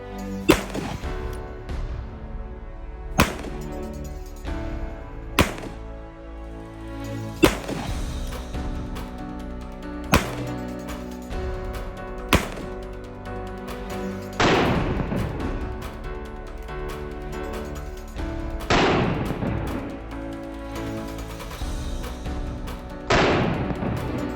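Gunshots are fired at a Kevlar-lined Silent Valor cargo backpack rated Level IIIA, with several sharp isolated cracks spaced apart over a steady background, followed by heavier booming hits.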